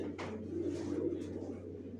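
Racer pigeons, a soft, low cooing close by that rolls on steadily over a faint hum, with a light tap or two in the background.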